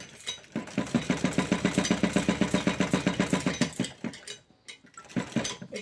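A sewing machine stitches blouse fabric in a steady fast run of needle strokes, pausing near the end before a brief restart; close and fairly loud, with no talking.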